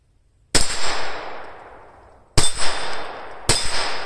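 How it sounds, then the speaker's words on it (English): Three sharp, loud gunshots from a Taurus TX22 .22 pistol, the second and third each followed by a quick metallic ring of a struck steel target, with echoing decay between shots. "Can you guys even hear him hitting the steel?"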